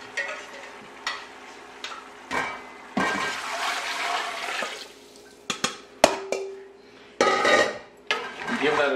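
Marinade water from a chicken bowl is poured into a massive pot of chicken stew soup, a rushing splash among repeated clanks of the bowl, spoon and pot rim, close and in bursts.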